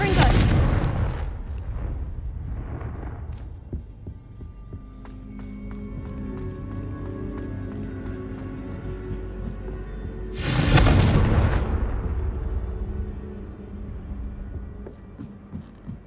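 A Confringo fire spell bursts in Hogwarts Legacy: an opening blast that fades, then a second loud explosion about ten seconds later over a hum of game music. A voice speaks in between.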